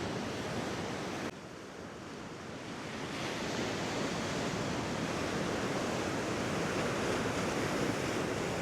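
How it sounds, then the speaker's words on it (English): Continuous roar of surf breaking over rocks along the Military Road coast on the Isle of Wight, loud and broad, with a brief dip early on before the heavy wash resumes. "The old waves are crashing over the rocks"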